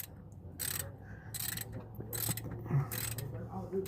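Ratchet wrench being turned while fitting motor mounts on a car with a rod knock, giving a steady series of close, rhythmic metallic clicking bursts, alone without talk.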